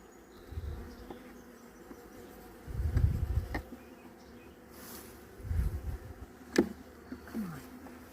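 Bees buzz around an open hive as it is worked on, swelling in several loud close bursts between quieter stretches of low humming, with a few sharp clicks and knocks scattered through.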